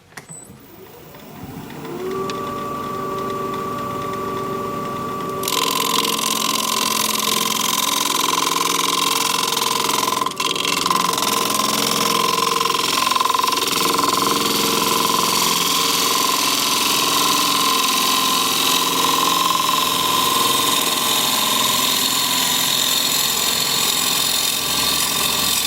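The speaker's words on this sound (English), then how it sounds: "I'm going to switch to a 1/2 inch standard grind bowl gouge because I want to get in here a little bit tighter." A wood lathe spins steadily while a 1/2 inch standard grind bowl gouge cuts a plum live-edge bowl, a constant motor whine with a steady scraping hiss from the cut, close and continuous with no talking.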